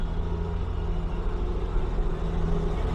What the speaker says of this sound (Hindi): गाड़ी की आवाज़ आ रही, ट्रेन आ रही, शायद टॉय ट्रेन आ रही